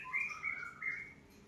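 A cucak ijo songbird gives a few bright, high chirps and short whistled phrases in a quiet setting, moderately close and without any talking.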